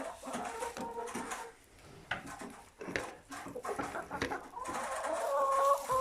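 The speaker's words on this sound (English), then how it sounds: "this is the hen house. I enjoy having hens." Hens clucking inside a farm hen house, a busy overlapping chorus of chicken calls and squawks with rustling, growing louder and denser toward the end.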